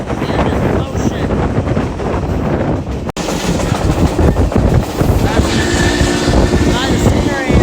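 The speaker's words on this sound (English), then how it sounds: "You can see the steam coming out of the engine." Historic U.S. Sugar Express steam train on the move, heard as a loud, steady rumble of rolling cars with heavy wind buffeting the microphone, one brief dropout partway through and faint tonal squeals near the end.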